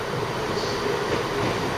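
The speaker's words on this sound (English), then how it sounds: "Cross country train." A cross country train rumbles steadily throughout, with a dense, continuous roar of wheels on rails and a constant, fairly loud wash of noise, as if heard from on board.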